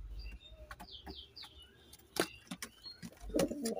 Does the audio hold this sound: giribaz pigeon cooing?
yes